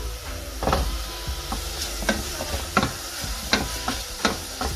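Carrots stirred in a sizzling frying pan for a chicken katsu curry: repeated scraping, knocking utensil strokes over a constant loud sizzle and hiss.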